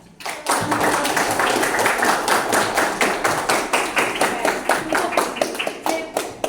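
A classroom of students claps in a steady, rhythmic pattern of sharp collective hand claps, counting out ten beats together in a twelfth-grade class, loud and close with no talking.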